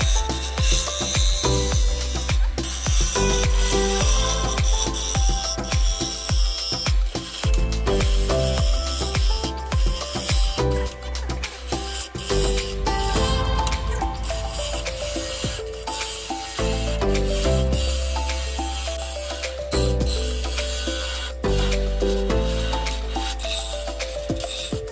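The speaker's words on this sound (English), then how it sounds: "I've now hollowed out the inside" A birch bowl spins on a wood lathe while a tool hollows out its inside. A steady, harsh scraping and rasping sound runs throughout at close range, with occasional chattering bursts and no talking.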